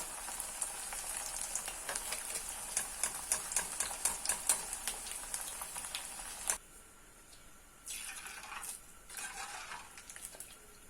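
Battered banana flower frying in hot oil in a home kitchen, a steady crackling sizzle with sharp pops for about six seconds before it drops to quieter sizzling with occasional clinks.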